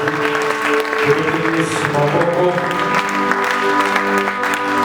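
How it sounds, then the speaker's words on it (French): A church congregation at a Sunday worship service claps together in a dense, sustained burst, mixed with sung or played musical tones throughout. "Acclamons Jésus."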